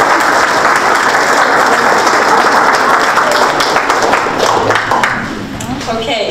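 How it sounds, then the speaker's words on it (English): Applause from parents and students at a junior honor society induction ceremony, a dense steady roar of clapping hands filling the room before tapering slightly near the end. "please, a round of applause to all of you"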